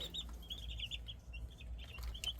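Cornish Cross meat chickens cluck and chirp softly in the background, a few birds calling intermittently over a low, steady hum.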